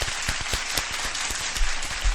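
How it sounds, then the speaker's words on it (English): Applause at a UFC fighter's interview event, a steady wash of many hands clapping with scattered sharper claps, moderately loud throughout the short burst. "Let's a round of applause to the people"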